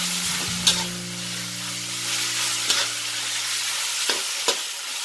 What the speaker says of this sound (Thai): แล้วเราก็มาใส่ส่วนของหน่อไม้ลงไปเลยค่ะ